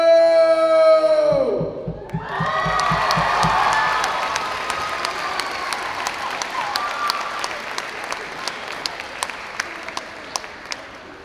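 An audience at a brass band concert in a high school bursts into loud applause right after a held musical chord fades, the clapping swelling then thinning to scattered claps.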